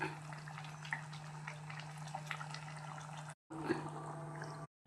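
Prawn curry with drumstick pods bubbles gently in a covered pot, a soft continuous simmer under a steady low hum with a couple of brief dropouts.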